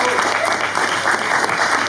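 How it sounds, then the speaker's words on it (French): A crowd at a fight weigh-in for a France vs Netherlands belt bout applauds in a brief, dense, steady patter of clapping heard close and loud. "Aurore Dos Santos, on peut l'applaudir pour la France."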